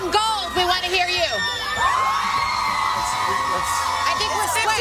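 Television studio audience yells and cheers loudly in a sustained burst in response to a host's prompt about a dress's colors, with overlapping whoops and shouts over a busy room.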